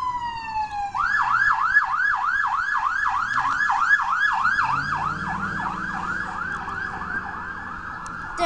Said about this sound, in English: There's a lot of police in the woods.